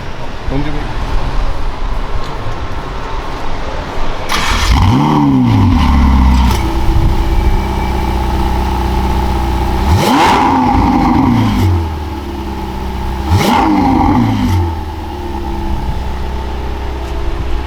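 A Ferrari 12Cilindri engine, already warm, revs hard three times in sharp rising bursts over a steady idle, loud and close, with someone talking in between.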